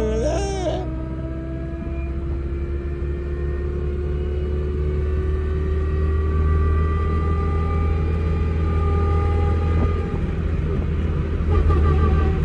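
A Tofaş Şahin car with a clunking differential revs hard, its engine climbing steadily in pitch over a loud low rumble, close up and continuous, with a brief voice near the start.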